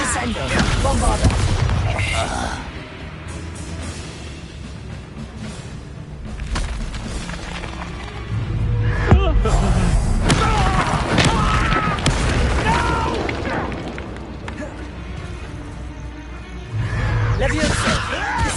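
Bombarda blasting-spell explosions from Hogwarts Legacy combat, a run of loud low booms and crashes going off repeatedly amid continuous game noise, with heavier bursts near the start, middle and end.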